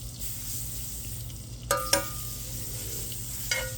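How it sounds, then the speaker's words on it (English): Butter melting in a hot pan for a T-bone steak, a soft steady sizzle with a few clinks of a utensil against the pan, close and alone. "I'm gonna throw some butter in there."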